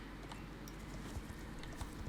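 Hooves of a game horse clop softly behind, following along as a rhythmic, faint patter of steps over low background ambience in a farm setting.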